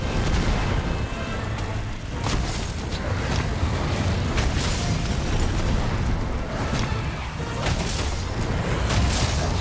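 In the video game Monster Hunter World: Iceborne, repeated blasts and bursts go off during a Master Rank Teostra hunt, with booming hits and crackling pops over a dense, noisy battle din.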